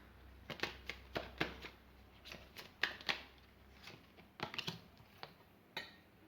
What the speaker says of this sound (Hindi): कार्ड्स को मैं अच्छे से सेट कर लेती हूँ पहले